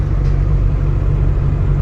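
Steady, loud low rumble of a car engine and road noise from inside a moving vehicle near Haladia Dam, Baripada, continuous and even with no talk.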